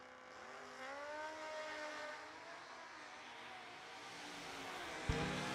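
Drag racing vehicles, including a Kawasaki motorcycle and a big-tire Malibu, launching down the strip; engines rise in pitch with a steady roar, a sharp burst near the end, fairly distant and alone.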